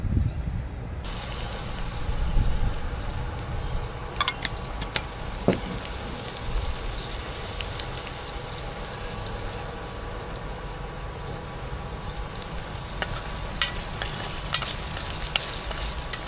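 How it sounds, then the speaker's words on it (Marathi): Onions frying in oil in a pan, browning: a steady, dense sizzle runs throughout, with occasional stirring scrapes and clicks and no one talking. "आता कांदा पण छान मस्तपैकी ब्राऊन होतो तेलामध्ये, व्यवस्थित फ्राय करायचा आहे।"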